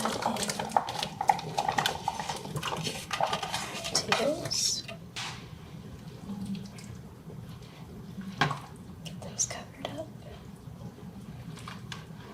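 Chopped potatoes tumble into a pot of Caribbean curry cooked in a Stardew Valley themed kitchen, a clattering burst of chunks and a clink of utensil against the pot, up close, followed by quieter scraping and stirring.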